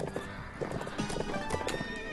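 A horse gallops with fast clip-clopping hooves and lets out a whinny in the Bibi & Tina horse farm video game, close and fairly loud.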